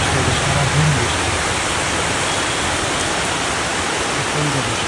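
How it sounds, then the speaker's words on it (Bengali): Heavy rain falling all day, a loud, dense and constant roar of broadband wash that fills the whole scene, with a few faint low murmurs in the background. "সকাল থেকে একটা বৃষ্টি হচ্ছে, সারাদিন বৃষ্টি"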